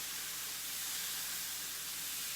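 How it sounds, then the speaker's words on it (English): Chicken breasts sizzling in a cast iron pan with peppercorn and garlic, a steady broadband hiss that holds evenly throughout with no voices. "It's still sizzling when I put it back on the other side."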